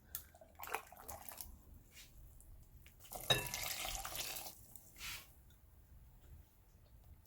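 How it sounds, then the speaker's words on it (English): Boiling water poured over peat pellets for seed starting, a faint trickling and splashing that swells in the middle, with soft handling noises before and after and no talk. "we are going to now pour the boiling water on the said peat pellets"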